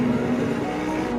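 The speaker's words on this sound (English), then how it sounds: "we have a natural aspirated V10 engine" Naturally aspirated V10 engine of a Lamborghini Huracán Sterrato, a steady loud mechanical drone with a low, constant hum throughout, heard alone without talk.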